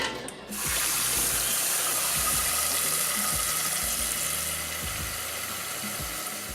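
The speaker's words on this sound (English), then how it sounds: "And then just fill it up with cold water." Cold water runs steadily from a tap into a pot of eggs, a full, continuous gushing stream after a brief start, close and fairly loud.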